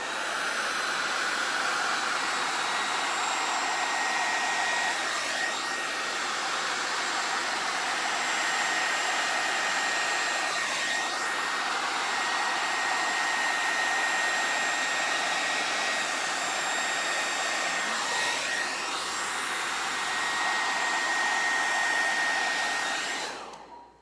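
A hair dryer blows steadily over wet acrylic pour paint in a Dutch pour, a loud, constant whooshing airflow with a faint whine, running alone for about twenty-four seconds before cutting off at the end.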